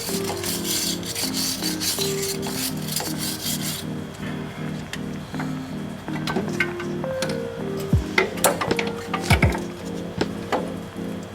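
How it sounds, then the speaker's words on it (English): A wire brush scrubs a strut mount during a strut replacement on a Ford Grand Marquis, giving close, loud rasping strokes in a steady rhythm with some clicks and knocks from handling parts. "I'm going to hit a wire brush with it real quick"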